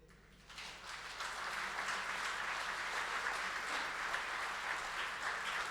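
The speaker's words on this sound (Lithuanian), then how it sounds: "Negailėkime aplodismentų." An audience claps steadily after a theatrical book reading, a dense, even wash of applause that swells in after a brief quieter start and carries on at a moderate, fairly distant level.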